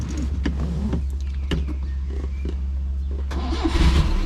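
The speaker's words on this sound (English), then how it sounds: "let's try to start the engine" A Peugeot 304 Cabriolet's engine cranks repeatedly without catching, the starter turning over in uneven bursts at close range, with the effort swelling louder near the end.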